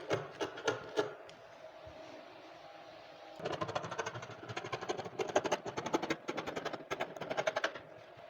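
Scissors cutting blouse fabric in a series of short snips and slicing strokes, the crisp cuts coming in quick bursts and growing busier after a brief pause.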